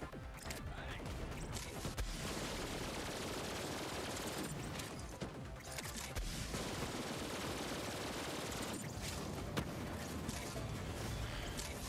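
Rapid gunfire from a Marlin pistol in a Call of Duty zombies game, near and loud, with repeated bursts of shots filling the whole stretch and short lulls between volleys.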